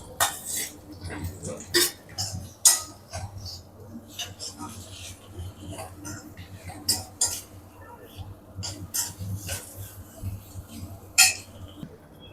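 Chicken fried rice stir-fried in a pan over a high flame, with scattered metallic clinks and scrapes of a spatula against the pan over a low background hiss, while someone talks.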